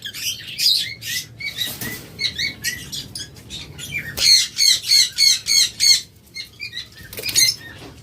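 Pet lovebirds and cockatiels in a cage flap their wings in several quick bursts and squawk in sharp, repeated calls, loud and close, with no talking.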